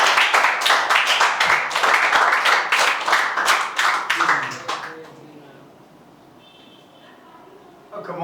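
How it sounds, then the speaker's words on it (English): A classroom of students applauding a classmate, a dense burst of clapping for about five seconds that then fades into quiet room murmur and faint voices. "Clap for Anjali"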